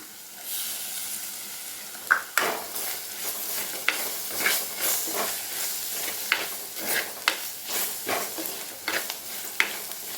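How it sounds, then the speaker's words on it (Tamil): Chopped onion and tomato sauté with chilli powder in a pan over a medium flame for prawn curry, giving a steady sizzling hiss broken by repeated scraping strokes of a stirring spoon. "நல்லா வதங்கி வந்துடுச்சு வெங்காயம் தக்காளி"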